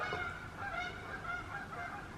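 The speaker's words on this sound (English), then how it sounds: "there are geese flying by." Geese flying by honk repeatedly in a loose, overlapping chorus, moderately distant over a steady outdoor background.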